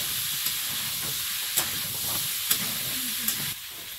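Soybean chunks dropped into a hot pan in a home kitchen, giving a steady close hiss and sizzle with a few small sharp clicks and stirring scrapes, the sizzle dropping slightly near the end.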